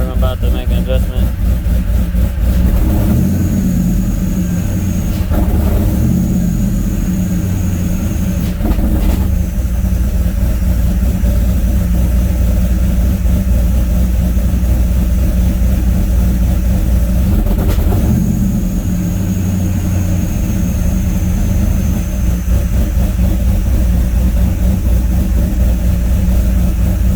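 Supercharged LSA 5.3 V8 in a C10 truck on air ride, idling loud and close then revving in uneven bursts that stumble and hesitate, with a high whine riding over the rumble and a voice talking over it.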